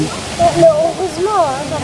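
Waterfall at Plitvice Lakes in Croatia roars as a loud, continuous rushing wash, with people talking over the water throughout.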